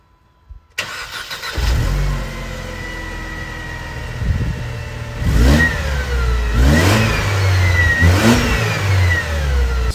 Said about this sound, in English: give you guys a glimpse of what it sounds like on a cold start